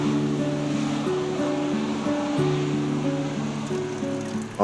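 The River Cole flows beside a small bridge near Marsden in the South Pennines, a steady rushing of water heard close by, with sustained melodic tones running over it.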